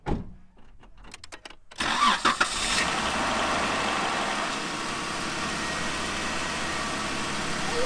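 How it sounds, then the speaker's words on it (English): A Jeep engine cranks briefly on a NOCO Boost jump starter pack, a few rapid starter whirs, then catches and settles into a steady, loud idle that continues to the end. "now I'm gonna start the Jeep only on that battery jumper"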